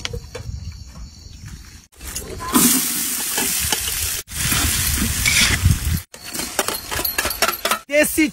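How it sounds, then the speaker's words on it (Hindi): Desi chicken roasting in a pan with onion and tomato, a loud sizzle and stirring broken into several short abrupt segments, with a voice talking over parts of it. "देसी चिकन, थोड़ा सा प्याज में और टमाटर में इसको अच्छे से भून लेते हैं"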